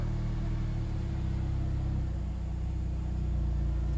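Mercedes-AMG C43 pulling away for a drive, heard from inside the cabin as a steady low engine drone with deep harmonic hum that shifts pitch slightly as it rolls off, no talking.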